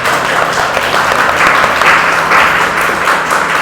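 An audience in a podcast studio claps steadily in a dense, close round of applause that holds loud and even throughout, with no voices above it.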